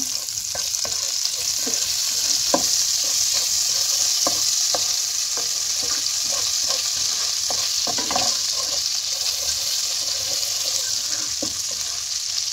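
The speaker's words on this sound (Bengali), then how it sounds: "এবার এতেই আমি আর একটুখানি বাটার দিয়ে দেব।" Butter melts and sizzles in hot white oil in a pan while cooking butter chicken, a steady close frying hiss with scattered crackles and light stirring clicks.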